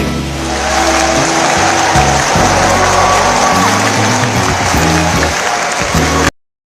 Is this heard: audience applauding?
yes